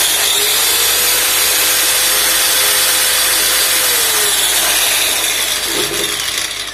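A Bosch power cutter with two modes runs loud and continuous at close range, a steady high whine with a faint tonal hum that drops slightly near the end, and no talking.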